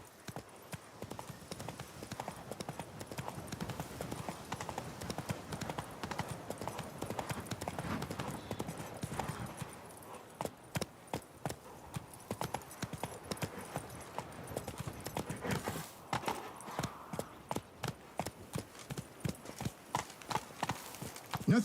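Roach, the horse in The Witcher 3, clip-clops along steadily, hooves striking in an even rhythmic gait that fades slightly midway, then returns in sharper, more distinct beats with no talk over it.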